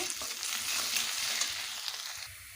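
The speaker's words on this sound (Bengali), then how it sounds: "সামান্য পরিমাণ হলুদ গুঁড়ো দিয়ে ভালোভাবে ভেজে নেব" Potato pieces frying in oil with salt and turmeric, a close, continuous hiss and crackle with scraping stir noises from a spatula against the pan, no voices.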